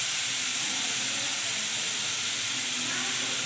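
Onions for an aloo paratha filling fry in a pan with a constant, loud hiss and sizzle. The sound stays even throughout, with no voices.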